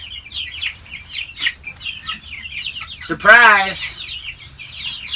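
Young hatchery chicks from a McMurray Hatchery shipment in a brooder, peeping and chirping steadily throughout at close range, with one brief exclamation from a voice partway through.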